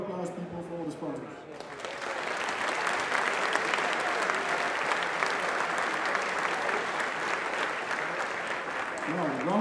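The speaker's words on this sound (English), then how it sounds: "A very big warm applause, people, for all the sponsors." A large audience at a RoboCup event in Eindhoven applauds the sponsors, a dense sustained wash of clapping that swells in after a short spoken lead-in and carries on steadily to the end, with a voice returning at the close.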